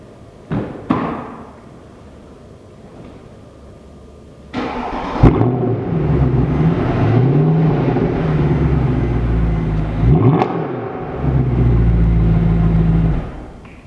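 A couple of thumps, then a 2012 Mercedes C63 AMG engine cranks and roars to life, settling into a deep idle with a sharp rev blip midway, close by.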